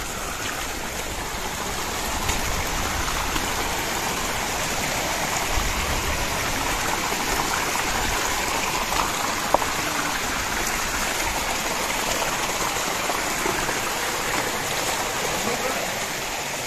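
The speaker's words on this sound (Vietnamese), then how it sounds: "Đó, nước cái ống nó dẫn đi khắp hồ vậy." Water babbles continuously from a pipe feeding a sturgeon fish farm pond in the forest, a steady, close rushing trickle with no pauses.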